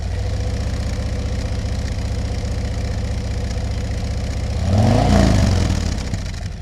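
A 2024 Harley-Davidson Street Glide fitted with a Tab Performance aftermarket exhaust idles with a steady, lumpy low thrum. Near the end it swells briefly louder before settling back, heard close by.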